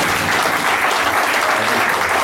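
A church congregation applauding, dense and loud clapping that carries on steadily from start to end with no voices standing out.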